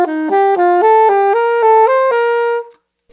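A clean, sustained instrument plays a major scale in thirds, alternating leaps up and steps down in an even ascending sequence of about ten notes. It is close and solo, ending on a held note.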